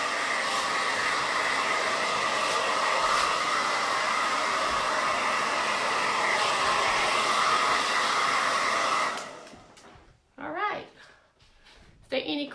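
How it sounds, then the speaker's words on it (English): A blow dryer dries chalk paint with a steady, loud rushing whir for about nine seconds, then cuts off and a person speaks briefly afterward. "let's just use the blow dry."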